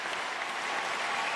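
Steady applause from a crowd ahead of a wheelchair tennis doubles bronze medal match, a dense, continuous wash of clapping filling the whole moment without any clear voices.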